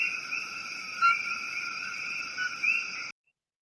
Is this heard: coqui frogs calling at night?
yes